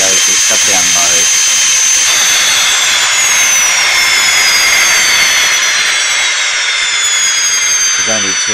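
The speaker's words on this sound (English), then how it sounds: "Sound 1, if the engine's running, will go to shutdown mode." Scale Me 262 twin turbine model jet engine running through its shutdown sequence, a loud, steady high whine with sweeping tones that slowly descend as the turbines spool down.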